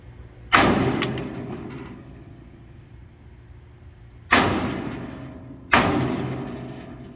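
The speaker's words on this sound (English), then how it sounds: "So I'm gonna use this rubber mallet to kind of tap it, see if I could dent it in a bit." Three hard thuds from a rubber mallet striking a dented mini farm truck bed, each ringing briefly before fading, spaced a few seconds apart in a quiet garage setting.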